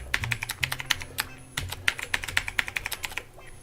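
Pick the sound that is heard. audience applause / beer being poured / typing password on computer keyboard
typing password on computer keyboard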